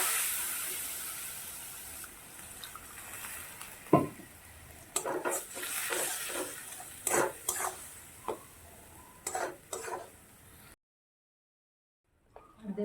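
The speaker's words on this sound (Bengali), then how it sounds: "একটু অল্প জল দেব, দিয়ে মশলাটাকে আমি কষাবো।" A spice paste with Kashmiri chilli powder and a little water is sautéed for a pointed gourd and prawn curry. Soft sizzling runs under irregular stirring scrapes and clicks, fairly quiet and close, then cuts to near silence at the end.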